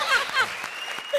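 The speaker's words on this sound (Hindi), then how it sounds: "जोरदार तालियां।" Studio audience clapping at a comedy show, a short loud burst of applause with some voices mixed in.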